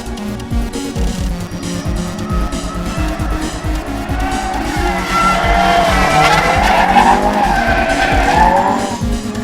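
A Nissan S13 drift car slides hard during practice, its tires squealing continuously over a loud, revving engine, the skid close and sustained throughout with rising, wavering screeches.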